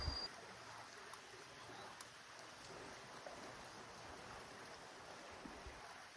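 A river flowing in the open countryside, heard as a steady, fairly faint wash of running water that holds evenly throughout with no talk over it.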